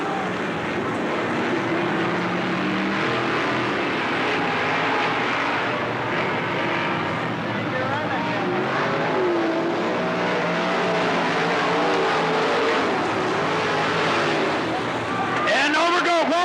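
Stock race cars roar as they accelerate together on a speedway at Riverside (Cottage Grove) Speedway in 1991 after a green-flag restart, a dense continuous engine drone under a commentator's voice.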